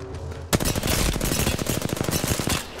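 Rapid bursts of video game gunfire erupt after a quiet half second, a dense volley of loud automatic shots that runs for about two seconds and then breaks off.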